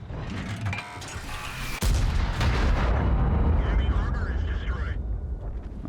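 Heavy tank gunfire in World of Tanks, with loud booming shots and a dense, rumbling barrage of blasts and impacts that grows into a sustained roar after the first couple of seconds, under a speaking voice.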